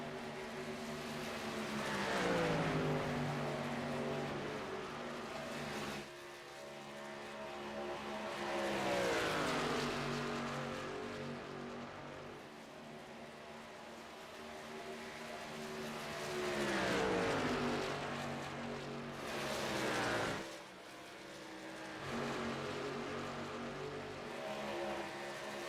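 Racing trucks in the Nevada 200 run laps on a track, engine drone rising and falling in long sweeps as trucks pass by at a distance, steady and continuous.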